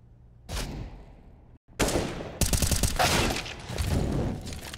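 Rapid gunfire bursts and booms from a Counter-Strike match on the Mirage map, loud and dense, with a brief drop-out before repeated volleys of shots.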